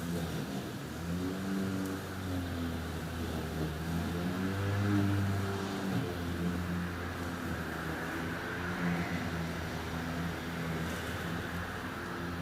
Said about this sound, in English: You'll hear traffic, you'll hear neighbors, you'll hear people.